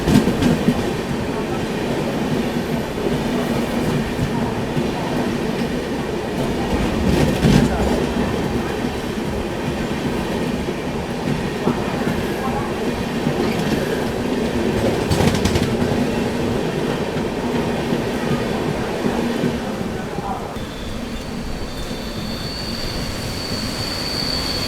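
The Mahabodhi Express rolls past at close range: a sustained heavy rumble with rhythmic wheel clatter and high metallic squeals, loud throughout and easing slightly near the end.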